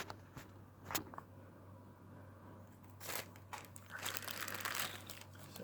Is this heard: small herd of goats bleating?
no